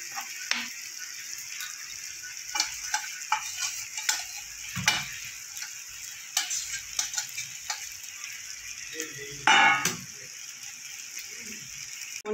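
Paneer pieces coated in oil fry in a pan, giving a soft steady sizzle broken by clicks and scrapes of the utensil and one louder clatter.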